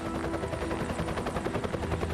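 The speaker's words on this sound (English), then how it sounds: "Helicopter's still one of my favourite sounds." A helicopter flies overhead with a continuous, evenly pulsing rotor thump and engine whine, loud and steady throughout with no voices.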